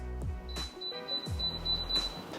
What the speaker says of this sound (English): if you guys can hear when you click the button on here, there's a beeping noise.